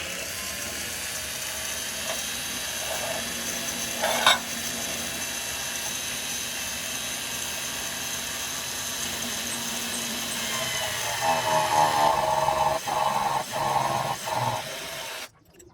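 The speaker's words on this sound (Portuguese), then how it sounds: "Então eu tenho aqui uma furadeira de bancada" A steady bench drill whine runs throughout, widening holes in wood, with a brief louder burst partway and rougher grinding near the end.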